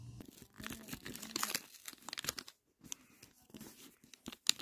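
A Pokemon card pack is torn open up close, with bursts of crinkling and ripping foil wrapper, a short pause, then more rustling and crinkling handling of the pack.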